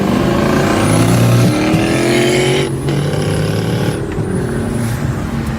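A 2023 BMW M3 engine revs hard with turbo lag, loud and close. Rising whines build, drop off briefly, then climb again in two surges with no talk.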